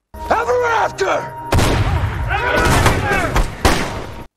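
A sharp, loud boom-like gunshot bursts out amid dramatic film audio, with voices and music-like tones around it.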